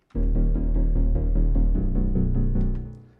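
A deep, steady synth bass line pulses in even notes under a layered harmonic backing, loud and continuous for about three seconds before fading.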